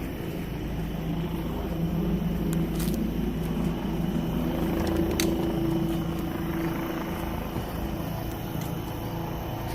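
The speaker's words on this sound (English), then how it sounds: "Chopper's looking for somebody." Police helicopter circling overhead on a city street with no sidewalks, a steady low rotor drone that fills the whole stretch at moderate loudness, with no talk over it.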